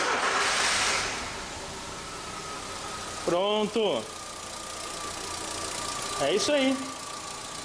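A Volkswagen Golf idles steadily with a low, even mechanical hum and light rattle after starting, running continuously while someone speaks briefly twice over it.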